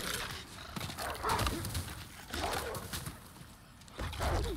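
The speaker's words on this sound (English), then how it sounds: "Oh, I like how the other two dogs spawn in." Dogs spawning in the video game Demon's Souls produce a clamor of growls and barking mixed with thumping game effects, arriving in several loud bursts over the few seconds.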